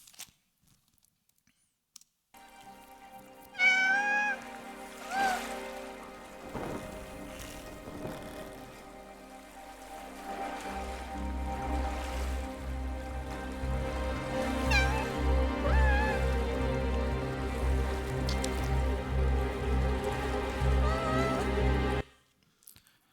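A domestic cat meows several times in rising and falling calls over a steady low hum and background clatter, fairly close and moderately loud, with no voices.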